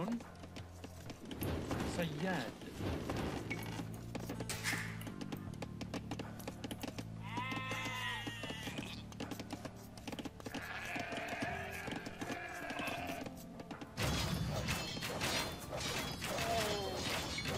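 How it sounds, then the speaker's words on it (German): Sheep bleat in Age of Empires 2 during the Saladin campaign's siege of Jerusalem, with several wavering calls rising over game noise, clicking and ongoing talk. "Die versuchen meine Schafe zu klauen."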